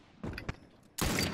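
Two gunshots in The Last of Us online video game, a short pop followed by a louder, sustained blast, with no talk over them.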